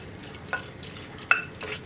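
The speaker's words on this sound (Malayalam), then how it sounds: "നമ്മൾ മിക്സ് ചെയ്ത് വെച്ചിരിക്കുന്ന മാവ് ഒഴിക്കാം" Kalathappam batter is poured into a pressure cooker over fried onions and coconut pieces, giving a faint sizzle with two short, louder bursts of frying as it hits the hot pan.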